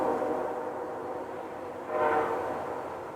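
A train bound for Canada rolls by in the background, a steady distant rumble that swells slightly near the end, with no voices present.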